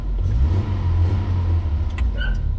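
Toyota KE70 car on its first test drive after a rebuild, its engine rumbling steadily and loud from inside the cabin, with a brief higher whine near the end.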